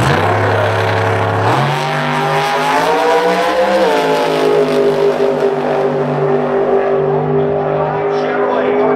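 A Chevrolet drag race car making a full-throttle run at 187 mph, a loud, sustained engine roar climbing in pitch through the gears, with an announcer talking over it.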